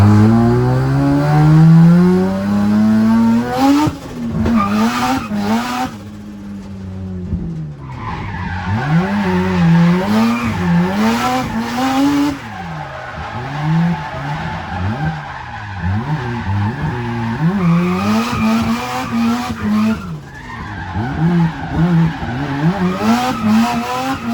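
A 13B rotary engine fitted in a Nissan Civic revs hard and repeatedly at a car show, loud and close, its pitch sweeping up and down in sharp rising and falling bursts with no voices.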